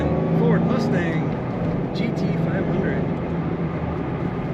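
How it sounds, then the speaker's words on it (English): A 2007 Ford Mustang Shelby GT500 convertible with a six-speed manual, its engine a steady, loud rumble heard from inside the car under continuous talking. "Today we're going for a ride in a 2007 Ford Mustang"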